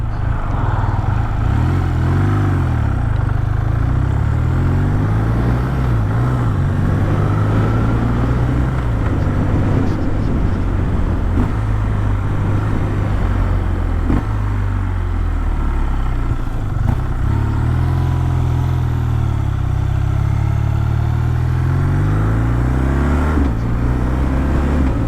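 A 2026 BMW R12 G/S motorcycle being ridden, with a quick shifter, gives a steady, loud engine drone whose pitch rises and falls through gear changes, heard up close and continuously with no talking.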